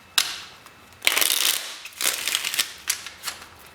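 Tarot cards being shuffled in several quick papery bursts, each a rustling flutter of riffled cards, close and clear with short pauses between them.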